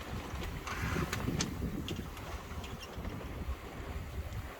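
A sailboat crosses the English Channel in the open sea, with steady wind rushing past the microphone and a soft wash of water under the hull, plus a few faint creaks and knocks aboard.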